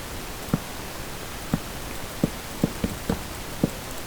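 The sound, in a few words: rain in the video game Minecraft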